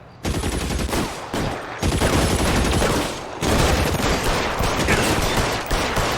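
Heavy gunfire from a shootout in the video game L.A. Noire, loud and continuous bursts of shots running almost the whole time, with only a couple of brief gaps between volleys.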